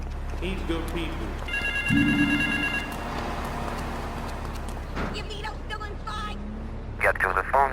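A payphone rings in Grand Theft Auto III, with bright electronic ring bursts at moderate volume amid street traffic, clopping sounds and other game noise, with no voices.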